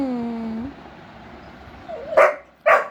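A Labrador gives two short, loud barks close by near the end, after a soft whine and a quiet stretch, indoors.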